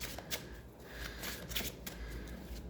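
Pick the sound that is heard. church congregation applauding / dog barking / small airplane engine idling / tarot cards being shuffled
tarot cards being shuffled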